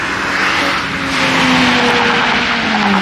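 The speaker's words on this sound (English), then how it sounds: "There's a Mercedes AMG C63, I think, whatever it is." A Mercedes-AMG C63 drives past loud and close, its engine note rising and falling in a steady roar through the whole pass, with some tyre noise and no talking.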